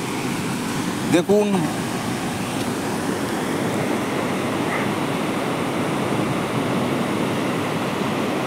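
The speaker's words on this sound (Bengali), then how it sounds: "দুর্গাপুর ব্যারেজ এটা ডিভিসি ব্যারেজের জল ছাড়া কাকে বলে সেটা আজকে আপনাদেরকে শেয়ার করব" Water pours through the DVC barrage at Durgapur, a broad, constant roaring rush like heavy surf filling the whole span, with someone briefly speaking over it early on.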